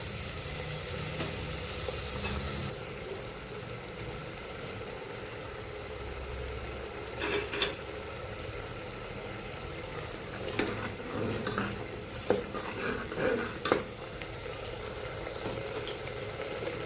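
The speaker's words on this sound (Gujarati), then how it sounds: "મસ્ત એવું સાતડી લેવાનું છે. જરાય કચાશ ના રહેવી જોઈએ" Vegetables sautéing in a pan for Kathiyawadi chapdi undhiyu give a steady, moderate sizzle and frying hiss, with scattered stirring scrapes and clinks toward the end and no talk.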